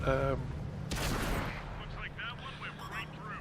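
A single heavy gun blast fired at an artillery tank in a tank battle game booms out near the start and fades quickly, followed by talking.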